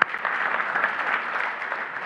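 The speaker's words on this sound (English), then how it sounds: "Let's give them a clap." A church congregation gives a short round of applause, with even, continuous clapping that sounds somewhat thin and distant.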